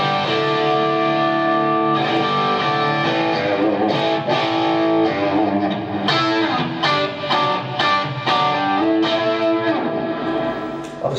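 Distorted electric guitar through a Blackstar ID amp's Marshall 59 Plexi model plays crunchy chords and riffs, sustained and loud, with crisp pick attacks and no voices.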